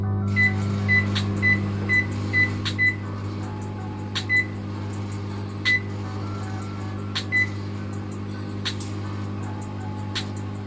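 A microwave oven cooking sliced potato chips sprayed with olive oil hums steadily and loudly, while faint crackles and sharp pops break through the drone at irregular moments.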